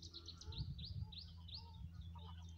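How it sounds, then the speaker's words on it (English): Short, high chirping calls of a Cetti's warbler repeat in quick bursts at a middle distance, over a steady low hum of outdoor background noise. "there's the Chetty's warbler calls from over there"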